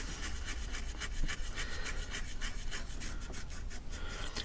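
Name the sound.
scrubbing a coin to remove patina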